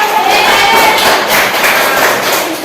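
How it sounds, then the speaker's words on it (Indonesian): Junior high students in a classroom at SMPN 1 Banjarwangi clap loudly and continuously, a close, dense wash of hands with faint cheering mixed in. "Tepuk tangan dulu"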